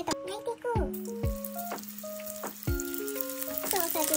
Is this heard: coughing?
no